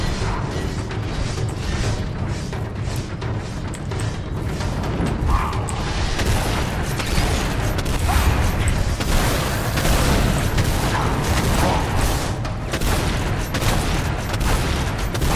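Rapid bursts of gunfire and crashing impacts in the video game Lara Croft and the Guardian of Light pile up continuously, loud and dense, with no pauses for several seconds.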